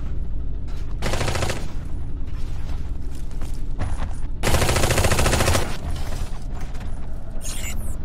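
Gunfire hits a base in the video game Eximius: Seize the Frontline, heard as two long, loud bursts of rapid automatic shots over a steady rumbling battle background.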